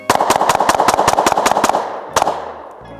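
A SIG Sauer P365 pistol fires a rapid string of about ten loud, sharp shots within two seconds, followed by one more crack and a fading echo.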